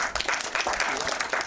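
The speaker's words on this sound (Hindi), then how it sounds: "तो एक बार जोरदार तालियां पूरी टीम की।" Enthusiastic audience clapping for the team at a song launch event, a brief dense burst of hands with crowd noise, close and fairly loud.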